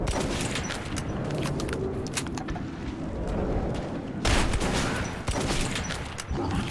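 Rifle fire in a Metro video game, loud dense bursts of shots crackling continuously with booming impacts, one sharp blast standing out midway, no clear talk.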